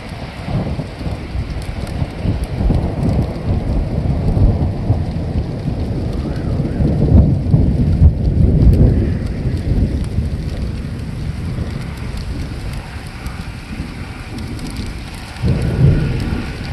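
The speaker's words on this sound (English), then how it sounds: "There it is, we have thundersnow." Thundersnow during a winter storm: rumbling thunder rolls through steady rain, snow and graupel pattering on surfaces, with a swell of louder rumble midway and a fresh burst near the end, no voices.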